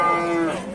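Close up, a cow at a livestock market in Çorum gives one short, loud moo with a falling tone.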